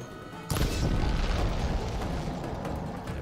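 A burning canister blows up in Horizon Forbidden West, a sudden loud blast followed by a long rumbling, crackling roar that slowly fades over a few seconds.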